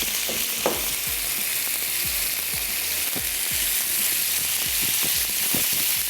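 Chicken sizzles steadily on a hot grill pan, a dense close frying hiss broken by scattered clicks and scrapes as the pieces are moved, with no voices.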